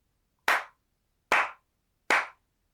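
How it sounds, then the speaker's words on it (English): Three sharp hand claps, evenly spaced and close, alone in a quiet room. "can you just clap again,"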